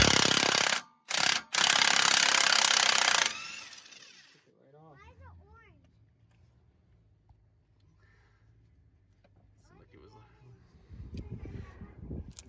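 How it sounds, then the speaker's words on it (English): Pneumatic impact gun hammering loudly in two short bursts and a longer run on a 2003 Mach 1's 8.8 axle during pinion seal work, followed by quiet workshop sounds and people talking. "Brand new impact gun from Danny Johnson."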